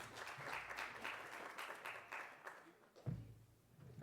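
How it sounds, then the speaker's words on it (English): A conference audience applauding a speaker as he is introduced, heard as faint, distant clapping with a dull, muffled texture over about four seconds. "Big round of applause for Jonathan"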